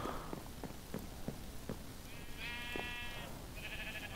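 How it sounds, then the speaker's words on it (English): Sheep in the video game Minecraft bleat in a few wavering, nasal calls, loud and close, over a background of soft in-game footsteps. "Hello, sheep. All my friends, they're very loud."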